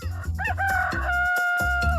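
A rooster crows loudly and close in a cartoon moral story, a single drawn-out harmonic crow lasting about two seconds with short clucks around it.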